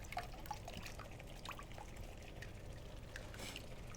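Water from a pot of boiled penne rigate pouring off through a strainer, a soft continuous trickle and splash with small drips, quiet and close, with no voices.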